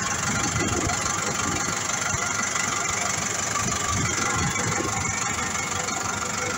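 A Massey Ferguson 440 farm tractor engine idles steadily and close by, a dense continuous rumble with a faint knocking running through it and no talk.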